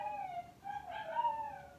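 Dogs upstairs in a house howling at a distant siren, a thin wavering chorus of rising and falling howls, moderately faint and heard from another room with no talk.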